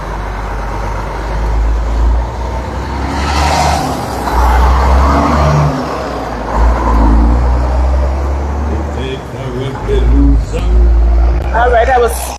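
A truck passing by on a road during an outdoor morning gathering in the BVI, its low rumbling engine swelling and fading under people talking nearby.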